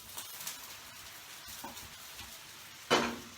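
Thai green curry ingredients hit a hot pan with a sudden, loud sizzle near the end, after a few quieter stirring and utensil scrapes.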